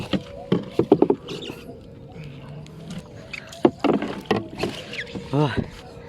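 A rowboat paddled through floodwater while rescuing a dog and her puppies, with scattered splashes and paddle knocks near the boat among intermittent voices talking.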